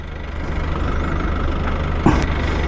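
A new Modenas 250 cc motorcycle engine idles nearby with a steady low rumbling drone, a brief louder knock or click near the end.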